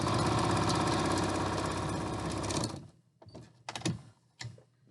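A sewing machine runs fast and steady, stitching a tube of twin bed sheet with a cord in the fold, then stops abruptly, followed by a few brief clicks and handling knocks.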